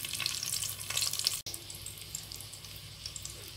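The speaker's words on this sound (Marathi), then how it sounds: "आता आपण एक एक हे वांग याच्यामध्ये टाकणार आहोत. तेलामध्ये चांगले फ्राय करायचे आहेत." Brinjal pieces frying in hot oil for a village-style vegetable dish, giving a close, steady hiss and crackle with a brief sharp break partway through and no voices.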